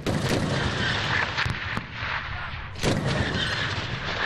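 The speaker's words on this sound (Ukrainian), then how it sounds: "стрикочуть зі зброї різних калібрів: РПГ, кулемети, снайперські гвинтівки" Dense, continuous gunfire from RPGs, machine guns and sniper rifles crackles and booms, with sharp individual shots and heavier blasts cutting through the constant roar.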